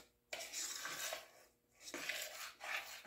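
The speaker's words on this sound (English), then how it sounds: "I'm just going to stir it." Fudge candy thickening in a pot is stirred in steady scraping strokes, with spoon-on-pot clatter and rubbing coming in bursts separated by short pauses, close and moderately loud with no talking.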